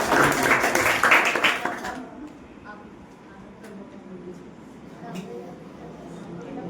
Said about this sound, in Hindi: ताली बजाइए इसके लिए एक बार